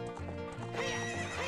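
Epona, the horse in The Legend of Zelda: Ocarina of Time, lets out a loud, close neigh with hoof clip-clops mixed in, all packed into a short burst with no voices.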